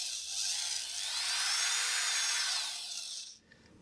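A small drill bores a 1.8 mm hole, its high, steady whine running continuously for over three seconds before cutting off abruptly near the end.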